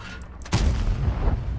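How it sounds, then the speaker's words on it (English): A single heavy tank shell strikes and bounces off armor in World of Tanks after a shot from a Super Hellcat. A sudden loud boom breaks a quieter hum, then a rumbling tail follows. "I got shot by the Super Hellcat, and I bounced a shot"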